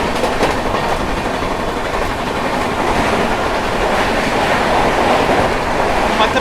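A Rajdhani Express train races at 130 km/h past Faridabad Old without stopping, giving a loud, continuous roar of wheels and rushing air close by.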